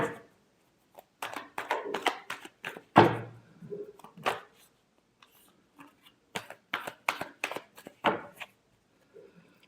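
Tarot cards being shuffled by hand during a love reading, giving bursts of papery riffling and tapping with brief pauses between, close and moderately loud, with no talk.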